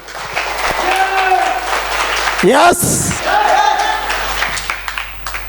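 Applause rises from the audience at a first-anniversary celebration and business-plan presentation, running under voices and tonal music-like sounds, with a brief sweeping sound in the middle and one voice speaking.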